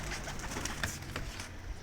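Soft, low pigeon cooing close by over a hissy background, a few murmuring calls in a short stretch.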